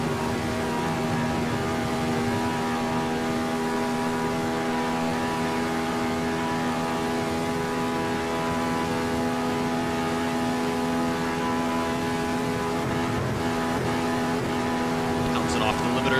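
A Ferrari 312/67 race car in Assetto Corsa at full speed on a straight, its engine a loud, steady high-pitched howl held at constant revs throughout, with a slight rise near the end.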